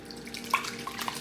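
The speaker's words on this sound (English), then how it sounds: "I'm just going to pour it into the," Soup ingredients are poured from a multi-purpose pot into a round steamer, a steady liquid trickle with small splashes and drips, close and fairly quiet.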